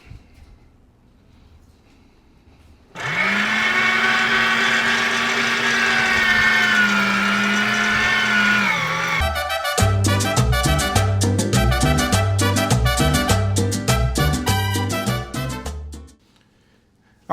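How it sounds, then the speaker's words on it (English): An electric meat grinder works through brisket trim: a steady, loud motor whine holds for about six seconds, then gives way to a choppier, pulsing churn as the meat feeds through. No one speaks. "We're going to grind this meat and make some ground brisket that we can make a burger out of."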